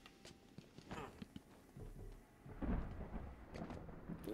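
Thunder from a lightning storm in Batman: Arkham Asylum rumbles and swells over steady rain, a low rolling boom that builds toward the end, fairly faint and alone without talk.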